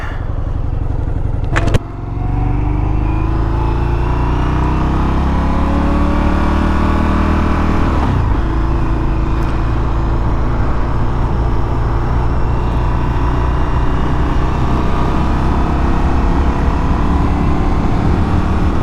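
A motorcycle with an Akrapovic exhaust starts off with a sharp blip, then revs and accelerates through rising, falling gear pulls, loud and close for a sustained run.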